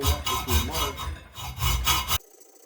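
A hand saw cuts a notch into a motorcycle exhaust pipe on a Softail, making several rhythmic rasping back-and-forth strokes, close and steady, before stopping abruptly.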